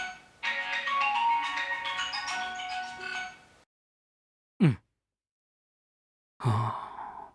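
A melodic mobile phone ringtone rings loud and close for about three seconds, then stops. Brief sighs and gasps follow, separated by silence.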